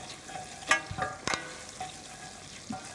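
Butter with mastic and garlic melting in a pan, giving a quiet, close sizzle with a few soft stirring clicks and scrapes over a low frying hiss.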